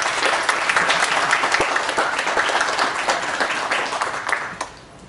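Audience applause at a high school graduation ceremony, with close, crisp individual claps in a dense round that gradually thins and fades out.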